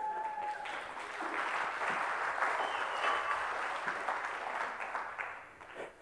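Applause from an audience at a HAR 2009 hacker conference talk, a dense patter of many hands that stays fairly even for several seconds before easing off, heard at a moderate distance.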